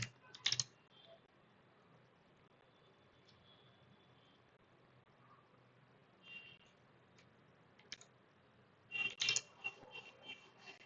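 Quick bursts of keystrokes on a computer keyboard while writing Python code for a machine learning project, with short clusters of clicks near the start and end separated by a quiet stretch, close and fairly faint.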